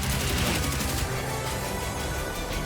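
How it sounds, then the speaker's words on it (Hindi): Machine guns fire in a dramatized WWII bomber air battle as Fw 190 fighters attack from behind. The bursts are loud and dense, blending into a continuous, crackling barrage with no pauses. "गनर्स गोली चला रहे हैं"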